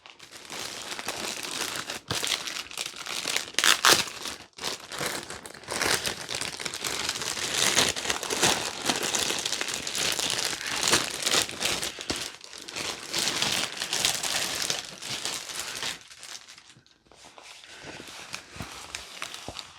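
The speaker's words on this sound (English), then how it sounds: "Plastic warning, mind your earbuds." Plastic packaging from a diamond art kit crinkled and crumpled close up for a long continuous stretch, loud and busy with brief pauses, no talking.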